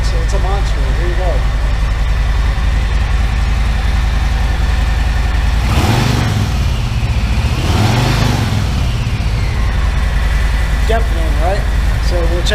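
Harley FXLRS motorcycle idling loudly through newly fitted TBR exhaust pipes, a steady deep rumble with two brief throttle blips in the middle, close and dominant throughout.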